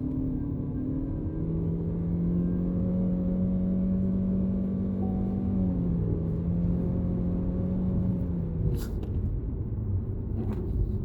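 An MG Astor with a CVT accelerates hard in sport mode, giving a steady, loud engine drone with rising whining tones heard from inside the cabin, plus a couple of brief clicks near the end.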